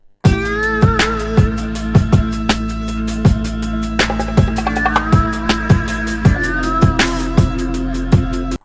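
A drum loop with punchy kicks and snares beneath a sustained melodic sample, time-stretched with the Elastic Pro algorithm, playing steadily and evenly at a moderate tempo throughout.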